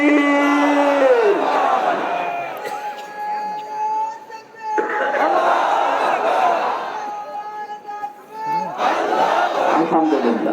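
A large crowd at a gathering roars Allahu Akbar together in answer to a takbir call, three long loud unison chants separated by brief dips, close and powerful.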